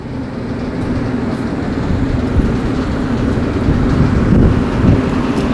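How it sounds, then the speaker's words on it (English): A small bathroom exhaust fan runs outdoors near a rooftop vent with a steady, close, broadband whooshing roar that rises slightly over time. Wind buffets the microphone, and no one speaks. "So this is another little exhaust fan. This is just for the bathrooms"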